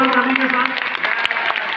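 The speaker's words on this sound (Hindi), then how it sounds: "जोरदार ताली के साथ" An audience at a large direct-selling achievers' function in Jaipur breaks into dense, continuous applause that follows on from a speaker's voice near the start.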